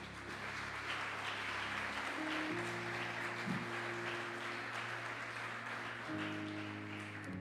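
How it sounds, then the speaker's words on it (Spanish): A church congregation claps during a Spanish-language service, a moderate wash of applause beneath sustained organ or keyboard chords that shift pitch partway through. "Denle un aplauso al Señor"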